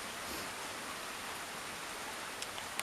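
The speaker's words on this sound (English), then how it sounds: "I love the rain." Rain falls in Norway as a soft, even hiss of drops with a few brighter drips near the end.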